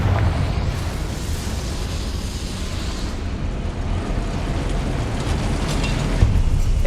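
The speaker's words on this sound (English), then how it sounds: "Confringo!" The Confringo fire-blast spell exploding in Hogwarts Legacy, a loud sustained rumbling roar of blasts and crackling fire with no pause, heard alone without talk.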